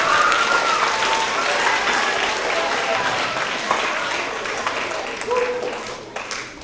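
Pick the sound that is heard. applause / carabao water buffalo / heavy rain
applause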